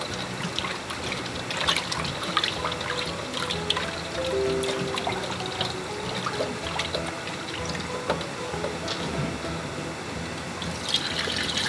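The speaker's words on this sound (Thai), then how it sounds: "เราล้างสักประมาณ 2-3 น้ำนะคะจนกว่าน้ำที่ล้างปลาจะใสนะคะ" Catfish rinsed in water after being rubbed with salt, giving a steady stream of splashing and trickling close by with no talking.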